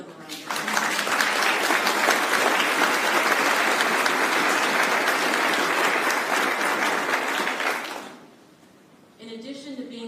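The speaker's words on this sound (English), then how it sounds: "Let's give them a round of applause." A crowd claps at a US Army Corps of Engineers district change of command ceremony, with sustained loud applause that fades out near the end, followed by a brief pause before a voice begins speaking.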